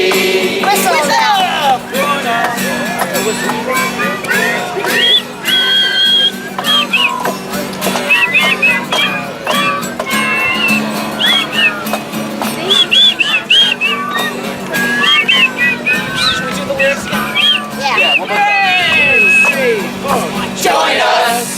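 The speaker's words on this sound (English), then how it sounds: "Let's ban all fracking from shore, land and sea. Whistle now." A protest crowd on a boardwalk blows whistles together in a loud, sustained, shrill din, with yelling and whooping mixed in throughout.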